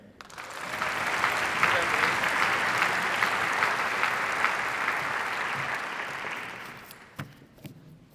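Applause for graduating members of a Purdue collegiate band at a spring showcase concert swells quickly into a steady, full round of clapping, then thins out near the end into a few last scattered claps.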